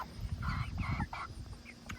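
Farm chickens raised for processing cluck and squawk in a close, busy cluster, overlapping bird calls over a low background hum.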